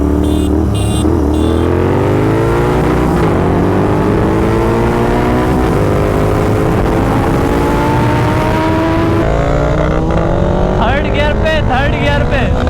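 A 2022 Honda CBR 650R and a 2024 Royal Enfield Continental GT 650 accelerate in a rolling drag race, one in first gear and one in third. Engines climb steadily in pitch, loud and close, with a voice speaking over them.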